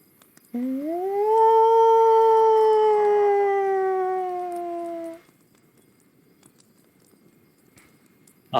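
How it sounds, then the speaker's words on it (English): A single long, drawn-out howl drifts from the forest to the west, rising in pitch, holding steady and then sinking slowly before fading into near silence. "Do you hear a howl off in the distance?"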